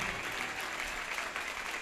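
A church congregation claps in celebration, a dense, steady wash of many hands that fills the space evenly for the whole stretch with no voices on top.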